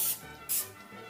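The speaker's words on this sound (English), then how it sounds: "take the pans and the cooking spray and just grease the pans with cooking spray" Cooking spray is squirted onto bread pans in two quick, close hissing bursts, faint and without talk.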